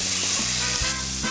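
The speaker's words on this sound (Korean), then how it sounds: "희한한 소리가 나요. 여기 기름 없이 구우니까 예. 두부가 으르렁 되네요." Tofu dry-fries in a pan with no oil, giving a continuous loud sizzle and crackle with faint low rumbling pops underneath.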